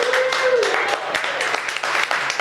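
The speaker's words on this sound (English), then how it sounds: "Let's give them a round of applause." Brief applause from a crowd at a county commissioner campaign kickoff, clapping mixed with voices and a raised tone near the start.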